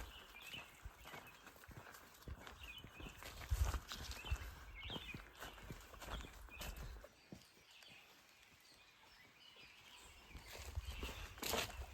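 Footsteps crunch along a mountain hiking trail on Réunion after a cyclone, a quiet uneven walking rhythm from nearby with soft ambient outdoor background.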